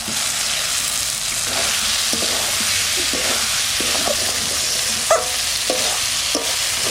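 Fried potatoes being stirred into a cooked spice paste of chilli, cumin, coriander and tomato, a steady close sizzle with a run of spatula scrapes and knocks, one sharper clink, no speech.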